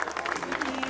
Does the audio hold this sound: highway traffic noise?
no